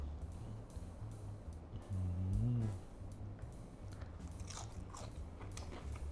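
Crispy fried pork belly flavored with pla ra being bitten and chewed up close, a crunchy bite followed by quieter chewing, with faint hum and bursts of background noise.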